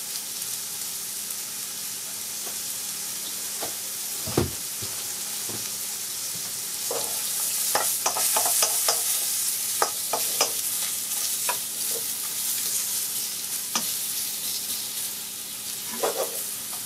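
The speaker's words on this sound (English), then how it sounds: "Just let those cook for a minute." Mushrooms fry in a seasoned wok with a steady sizzle, broken by sharp scraping stirs and clatters that grow busier midway.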